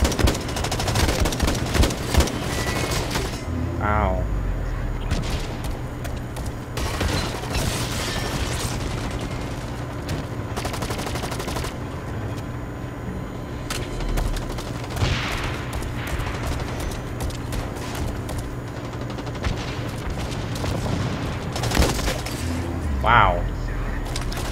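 Rapid machine gun fire rattles through a first-person shooter game in repeated close bursts, mixed with other gunshots and game effects, while a player talks over the action.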